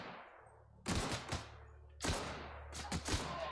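Gunfire in The Outer Worlds, a few close, loud bursts of shots with sharp cracks, separated by short pauses and trailing reverberation.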